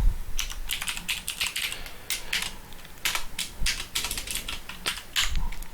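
Code is typed on a computer keyboard, a steady patter of close keystrokes in uneven bursts with brief pauses between words, clattering crisply without any talk.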